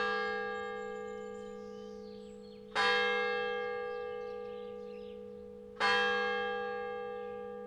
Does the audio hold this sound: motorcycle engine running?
no